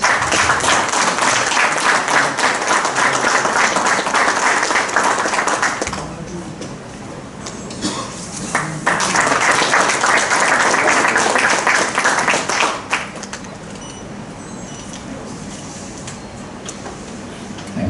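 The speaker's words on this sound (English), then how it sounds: "A round of applause" A round of applause at a pharma fire and security association event as a guest is honored, loud dense clapping for about six seconds, a quieter gap, then a second long burst before fading to room noise.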